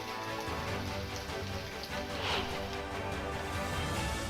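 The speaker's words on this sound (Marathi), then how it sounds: "दुपारनंतर वादळी वाऱ्यासह अवकाळी पावसानं हजेरी लावली" Steady unseasonal rain falls continuously with stormy wind, a dense hiss of drops on a surface with no voices.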